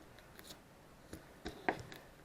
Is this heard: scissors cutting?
yes